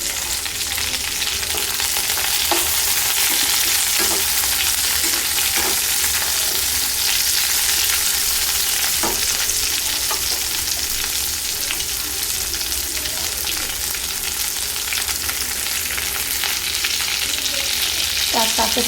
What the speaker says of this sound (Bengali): আমি এখানে দিয়ে দিচ্ছি এভাবে কেটে রাখা পেঁয়াজ